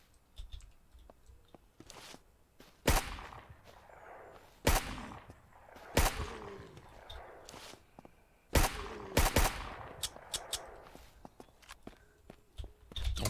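Suppressed gunfire from a weapon in the survival game SurrounDead, several sharp, loud shots spaced irregularly, some in quick pairs, over a low background of game ambience and movement.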